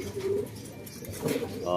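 A pigeon recovering from illness coos in low, throaty phrases close by, with a brief flutter of other sound and a voice talking faintly in the background.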